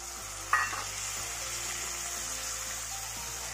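Okra masala with chopped tomatoes fries in a pan, a steady close sizzle running throughout, with a brief scrape or clink of a stirring spoon near the start.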